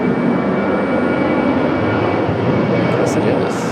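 Loud, steady jet roar from an American Airlines Boeing 737 MAX 8, delivered in 2025, taxiing at Raleigh-Durham International Airport, a continuous broadband rumble with no break across the clip.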